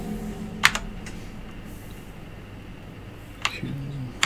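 A Mission GGK 3.5 mechanical gaming keyboard is typed on in short bursts of sharp key clicks, separated by quiet gaps, close and clear with no talking.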